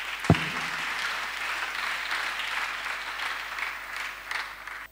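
A congregation at a Friday prayer night in Abidjan breaks into sustained applause, a dense continuous clapping after a sharp thump at the start, moderately loud and without talk.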